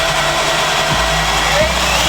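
A power drill bores a pilot hole in a widebody kit panel, giving a steady, loud whine that dips briefly twice as the bit bites.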